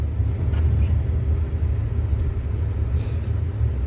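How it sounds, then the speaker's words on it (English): A pickup truck plows snow in low gear and four-wheel drive, giving off a steady, close, deep engine rumble that runs unbroken throughout with no speech. "Now, when I plow in low gear."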